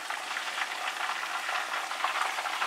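Old-fashioned pan-fried pork chops sizzling in hot fat, a dense, steady hiss of frying that stays loud and even throughout, with no voices.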